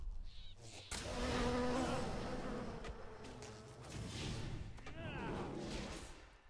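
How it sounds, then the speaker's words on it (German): Bees buzz in the World of Warcraft video game, a fluctuating whine that swells and fades at moderate level, with thuds and game effects mixed in. "Die werden jetzt von Bienen angegriffen."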